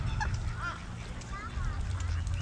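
Geese honking near water, several short nasal calls over a low steady rumble, moderately faint.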